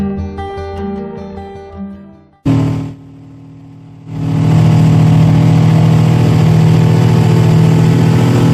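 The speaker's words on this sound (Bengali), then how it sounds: "স্পিড বোট খুব দ্রুত গতিতে ঘোরাচ্ছিল আমাদের পাইলট" A speedboat engine on a lake excursion near Patratu: music plays first, then after a sharp cut a motor idles and rises into a loud, steady high-speed drone that holds to the end, close and continuous.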